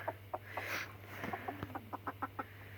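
Chickens on their first day in a new coop cluck softly and steadily in a quiet, faint series of short calls over a low background hum.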